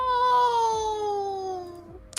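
A cat meows in one long, drawn-out, slightly falling wail, loud and close, ending abruptly with a short click.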